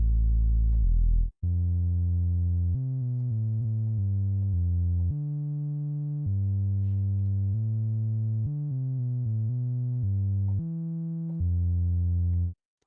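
A buzzy, saturated synth tone plays a sequence of held and short notes, thick and distorted, loud and alone with no voices.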